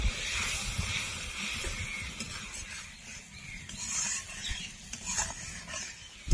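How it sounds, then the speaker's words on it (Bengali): Spices, Kashmiri red chili powder and tomato puree sauté in an oiled pan, giving a soft, hissing sizzle with irregular stirring scrapes and clicks, close by and without speech. "কাশ্মীরি রেড চিলি পাউডার, টমেটোর পিউরি, এবার ভালো করে কষিয়ে নেব।"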